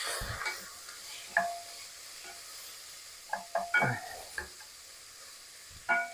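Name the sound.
stirring sauteing peppers and onion in a pan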